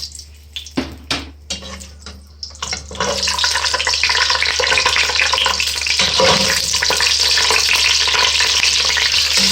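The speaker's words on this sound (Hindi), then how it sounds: "इनको ब्राउन होने तक फ्राई करती हूँ" Ground onions fry in hot oil in a home kitchen pan, a few soft stirs and sizzles at first, then a loud, steady, dense sizzle that carries on without a break.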